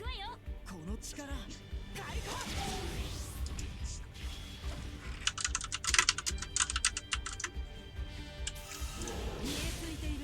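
Rapid clattering keystrokes on a computer keyboard during a stream of The Alchemist Code, close and busy, sometimes bunching into quick bursts beneath a person talking.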